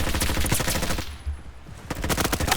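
MP5 gunfire while sliding in Roblox Frontlines: a loud, rapid automatic burst, a brief pause, then another fast volley, with no voices.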